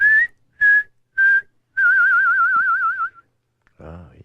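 A person whistles three short steady notes, then a long wavering tone that slides downward to imitate something falling, followed by a brief bit of speech.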